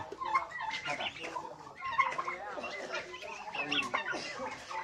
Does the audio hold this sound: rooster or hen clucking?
yes